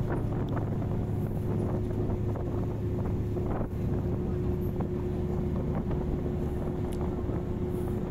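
Strong wind buffets and roars constantly across the open sea on a tuna fishing boat, with a steady engine hum underneath and occasional gusty flutters.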